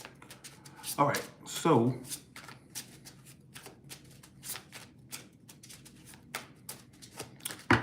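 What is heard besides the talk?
shuffling tarot cards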